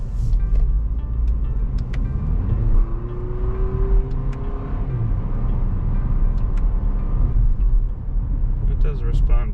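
A 2022 Lexus NX 350 engine revs from inside the cabin as it downshifts through the paddles, a steady mid-level drone with a rising pitch sweep and changing engine notes over continuous road rumble.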